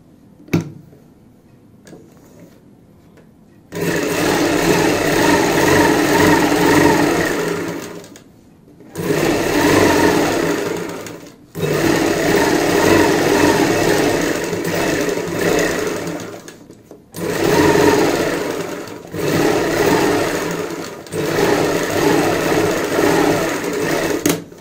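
Sewing machine stitching the second side of a lace-trimmed band neck on a kurti, running in four long steady bursts with brief pauses between, loud and close, no talking.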